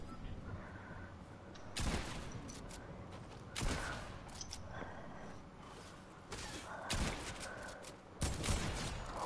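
Gunshots in a shooter video game against bots, several sharp bursts spaced a couple of seconds apart over a busy background, fairly faint overall.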